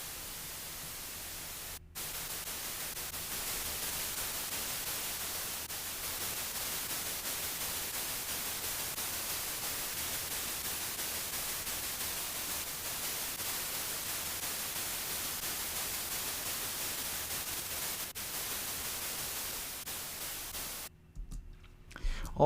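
Steady broadband white noise test signal hissing evenly at constant loudness for about twenty seconds, ending in a few brief clicks.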